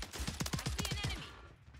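Rapid automatic gunfire in Warzone 3, about eight evenly spaced close shots in quick succession, then a brief fading tail.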